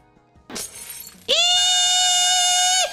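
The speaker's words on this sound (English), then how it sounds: "it starts with this really grating sound. And it sounds like glass breaking." A phone alarm ringtone built to sound like glass breaking: a brief crash-like burst, then a loud, sustained shrill tone that holds steady for about a second and a half before cutting off. No one speaks.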